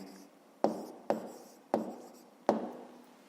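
A pen or pencil writes down an answer on paper in four distinct, evenly spaced strokes, each a short scratchy tap fading quickly, close and fairly quiet with no talk.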